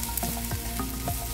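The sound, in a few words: sautéing chopped shallots and garlic in hot oil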